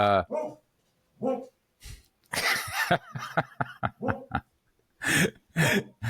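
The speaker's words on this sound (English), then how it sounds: "that's my dog in the background who's having a nightmare or a dream" A dog dreaming in its sleep makes short muffled barks and yips in bursts, somewhat distant, with a few soft whimpering sounds between them.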